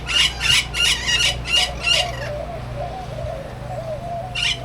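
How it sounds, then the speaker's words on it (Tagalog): A crowd of pigeons coos inside a large enclosure, several rhythmic calls pulsing close together, then a pause and another burst, with low background hum. "nandito kami sa isang kulong malaki. Punong-puno ng mga ibon."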